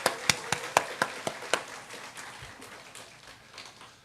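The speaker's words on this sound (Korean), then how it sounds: "어머니 기도회 스태프들을 위해서 다시 한번 격려의 박수 부탁드리겠습니다" Applause at a church mothers' prayer meeting, starting with several sharp, evenly spaced hand claps close by that soften into scattered, fading clapping.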